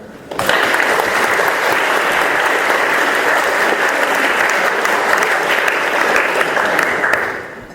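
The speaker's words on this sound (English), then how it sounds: "Please, a warm round of applause." An audience at a Cambridge debate on Islamic extremism breaks into loud, sustained applause lasting about seven seconds, dense and even throughout before tapering off at the end.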